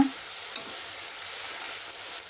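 Fenugreek leaves being stirred into onion rice in a hot pan give a steady, soft sizzle with faint scraping from the stirring, close and fairly quiet, with no voices.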